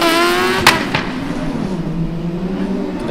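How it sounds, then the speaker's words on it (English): Combustion-engined Formula Student race car on an autocross course, a steady high engine whine with shifting pitch heard from a distance, with a couple of sharp clicks early on. "And I hear now another combustion motor, that is H26 from Regensburg, returning for their third run."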